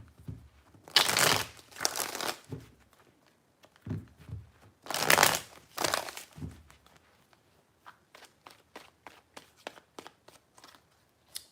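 Tarot cards shuffled in three bursts of riffling and crinkling, close and fairly soft, followed by a run of light, evenly spaced taps as the deck is squared and handled.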